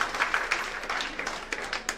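A church congregation applauds for a bishop, a dense, continuous patter of many hands clapping at a moderate level, with a few sharper individual claps standing out.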